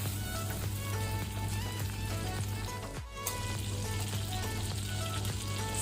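A tablespoon of butter sizzles and crackles in a hot pan, a steady close frying hiss that runs almost unbroken, with a brief dip just past the midpoint before it resumes.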